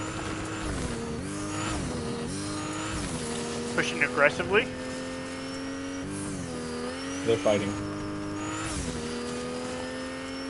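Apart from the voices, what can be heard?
car driving in Fortnite (video game)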